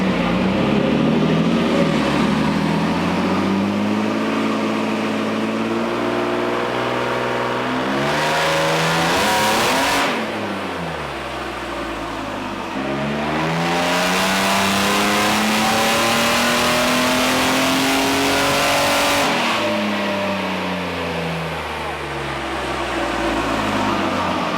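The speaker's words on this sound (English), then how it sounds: "These engines are so fucking loud." A loud supercharged Toyota Hilux engine on a dyno with the exhaust cutout open revs up in long sweeping climbs, easing back twice between pulls, the sustained roar dominating throughout.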